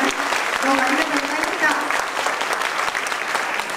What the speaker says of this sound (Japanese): 皆さんどうか最後に渡辺先生にもう一度大きな拍手をよろしくお願いします